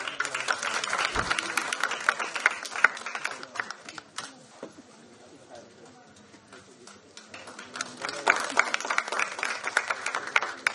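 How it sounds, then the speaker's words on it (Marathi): Audience applause for a ghazal poet named Apurva Rajput at a Marathi award event, dense crowd clapping that dips briefly midway and then swells again. "एकदा जोरदार टाळ्या अपूर्व राजपूत यांच्यासाठी झाल्या पाहिजे"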